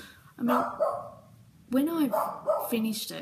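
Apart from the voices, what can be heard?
dog barking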